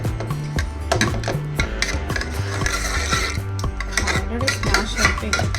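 Cooked moong dal being mashed in a pot, with repeated scraping and stirring scrapes against the metal, fairly loud and steady over a low rhythmic mechanical hum.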